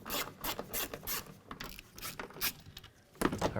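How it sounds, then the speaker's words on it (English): A ratchet with a 6mm socket clicks in quick rhythmic bursts while backing out door speaker screws on a 2008–2012 Ford Escape, close up, with short pauses between sets of clicks. "So we're going to use our 6mm socket and a ratchet"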